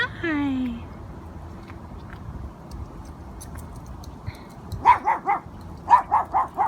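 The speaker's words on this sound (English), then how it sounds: "This is my doggy!" A pet dog barks in a quick series of sharp, nearby barks near the end, after a quiet stretch with faint background sounds and a brief high voice at the start.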